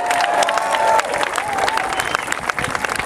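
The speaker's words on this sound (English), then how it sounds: "Please give him a big round of applause." An outdoor crowd at Keehi Lagoon applauds Senator Dan Inouye, brief clapping mixed with cheering and a voice over it for about three seconds.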